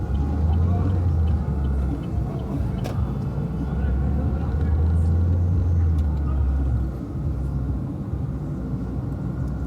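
Steady road traffic rumbles along the Grande Circular on a Saturday, with slow-moving cars through roadworks making a continuous low drone and occasional louder engine swells, heard from inside a vehicle.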